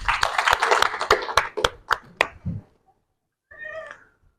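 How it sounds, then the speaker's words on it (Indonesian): Pupils in a classroom clap together in a quick patterned rhythm of sharp, loud claps that slows and fades out, followed by a short voiced sound. "Oke, tepuk tangan."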